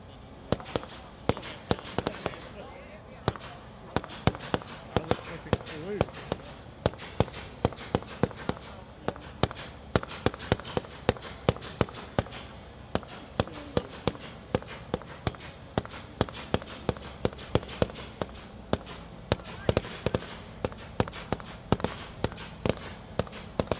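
American Twilight by Gunslinger, a 67-shot consumer fireworks cake, fires a long rapid series of sharp bangs and crackles, loud and steady in rhythm throughout, with faint voices in the background.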